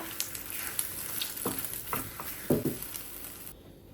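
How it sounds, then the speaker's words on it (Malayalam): Egg scrambling in a tablespoon of oil in a frying pan, a steady soft sizzle broken by a few sharper scrapes and stirring knocks from the spatula, close and fairly quiet with no talk. "അതിലോട്ട് 1 ടേബിൾ സ്പൂൺ ഓയിൽ വെച്ച് നമുക്ക് ഈ മുട്ടയൊന്ന് സ്ക്രാമ്പിൾ ചെയ്തെടുക്കാം"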